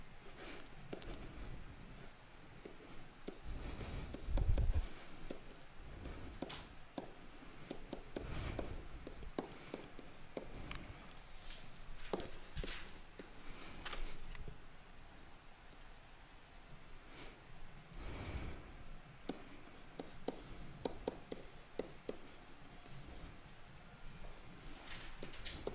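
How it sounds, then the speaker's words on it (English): A pen writes answers on a board in a quiet room, a long run of faint scratchy strokes and taps with short pauses between words, close and alone without talk. "I'm just gonna write the answers in so you can stop the video and do"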